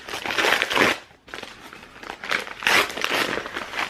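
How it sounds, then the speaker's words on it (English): Close, loud crinkling and ripping of gift wrapping paper being torn open in two bursts separated by a brief pause, with no voices. "So I have a smaller present first, which I'm going to open."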